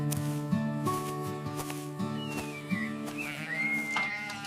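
Cattle moo in a farm enclosure, drawn-out low calls from several animals at moderate distance, with a faint whistling tone in the background.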